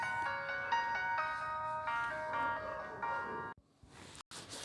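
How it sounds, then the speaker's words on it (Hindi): A phone ringtone plays a bright, repeating melodic tune loudly during a Hindi class lesson. It runs for about three and a half seconds, then cuts off, leaving brief clicks and low noise. "फोन आ गया"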